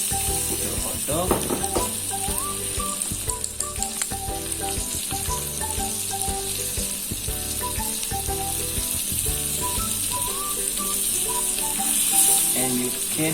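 Steady sizzle of a hot dog frying in butter, with crackling and occasional clinks of a utensil, continuous and fairly close, with faint background tones.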